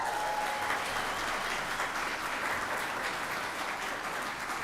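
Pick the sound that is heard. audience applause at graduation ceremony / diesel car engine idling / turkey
audience applause at graduation ceremony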